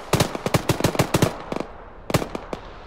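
Rapid bursts of automatic gunfire from a military video game, a dense run of sharp loud shots in quick succession, a brief pause, then a few more scattered bursts, with no talk over them.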